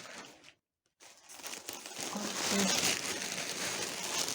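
Plastic wrapping crinkles and rustles close by, starting after a brief silence and growing louder as the package is handled.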